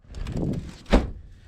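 A frozen old door on a U-Haul box truck is forced open in winter snow: a rough scraping rustle builds, then one sharp, close bang as it breaks free, fading to quiet.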